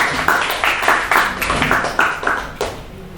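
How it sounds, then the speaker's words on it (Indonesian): Students in a classroom clap for a classmate in a steady rhythm of distinct, evenly spaced hand claps, loud and near, with no talk over them. "Oke, tepuk tangan dong buat Rafa."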